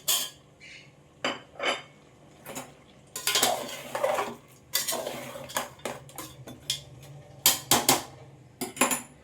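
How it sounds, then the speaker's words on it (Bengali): Potatoes, masoor lentils and peas fry in a pan with mutton, while a metal spatula scrapes and clanks against the pan in repeated close, uneven bursts over a soft sizzle. "মসুর ডাল আর মটরশুঁটি ভালো করে আমি 4-5 মিনিট ধরে ভেজে নেব।"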